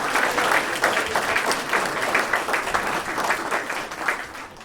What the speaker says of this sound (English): we wanted to give them a round of applause